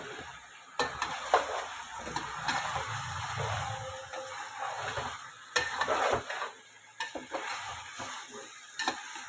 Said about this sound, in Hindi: बस 1 से 2 मिनट और हमने इसको भूनना है